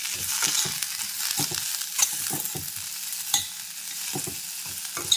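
Spoon stirring Himalayan pink salt into a mixture in a pan, with a run of short scraping strokes in a quick, uneven rhythm over a soft sizzling hiss, close by and with no talk.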